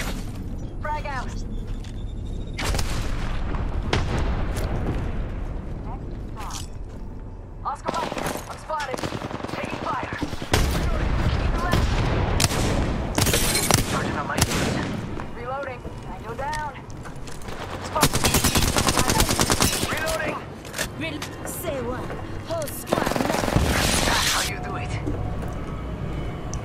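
Apex Legends match played as Lifeline: bursts of automatic gunfire and heavy grenade blasts come in dense, loud volleys separated by brief lulls, with in-game voice lines and talking over the action.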